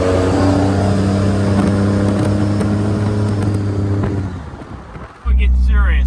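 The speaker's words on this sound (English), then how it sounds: "The ear-piercing, diesel-chugging monster." Diesel truck with a swapped 2nd gen Cummins engine, loud close revving with a heavy rough roar that dips briefly near the end, then surges back hard.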